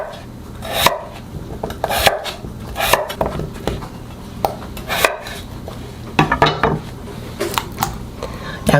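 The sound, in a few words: chopping onion into squares with a knife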